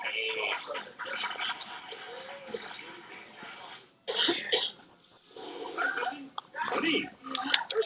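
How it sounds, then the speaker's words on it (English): Coughing from a Robitussin cough syrup commercial, several bursts scattered between stretches of other sound, with brief pauses; voices are present in the mix. "But that cough was pretty bad."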